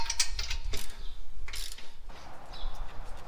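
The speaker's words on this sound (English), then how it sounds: "Permanently attach all the intake bolts." A hand ratchet tightens intake bolts on an FJ40 Land Cruiser during an intake install, giving several short bursts of quick clicking, close up and separated by brief pauses.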